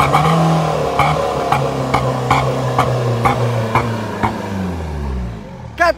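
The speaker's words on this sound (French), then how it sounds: "Vas-y, accélère un petit peu." A car engine revs up and down several times close by, with rising and falling pitch sweeps over a steady idle, the final throttle blip loudest before cutting off.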